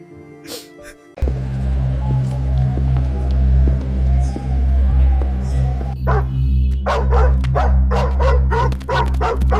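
Dogs chase and bark, first with a brief whine, then a continuous growling rumble, and finally a rapid, loud burst of repeated barks and yips near the end.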